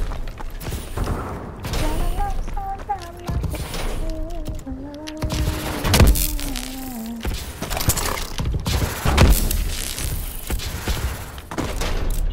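Small pistol firing in a 1v1 video game match, with repeated sharp shots and thuds scattered through the stretch while voices talk over the action.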